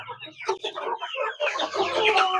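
Native country chickens and roosters on a small farm cluck and call continuously, several birds overlapping at close range, with a busier burst of clucking in the second half.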